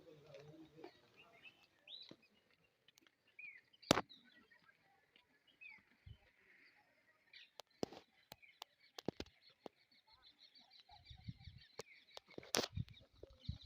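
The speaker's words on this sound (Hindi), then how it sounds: "बहुत ही ज़्यादा मात्रा में एकदम से पक्षी उड़े हैं यहाँ से।" Large flock of birds suddenly taking flight at a vast, deserted Bhangarh fort: sharp bursts of flapping wings at scattered moments, some close and loud, with faint chirps over otherwise quiet surroundings.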